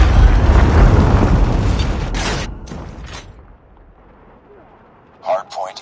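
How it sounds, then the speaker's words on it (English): A Predator missile strike in Call of Duty Mobile, a loud sustained explosive boom and rumble that fades away over a few seconds, followed by faint mechanical clicks. "Hostile Predator missile inbound."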